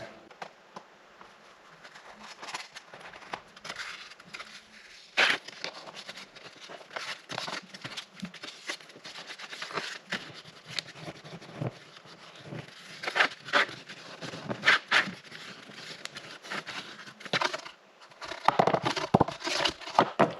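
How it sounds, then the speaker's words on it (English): Double-sided tape being pressed and smoothed inside a 3D printed box for a soldering iron, a run of soft crinkles, scrapes and taps close to the mic, irregular and fairly quiet throughout. "Now the fit is good enough, so I can just tape it inside."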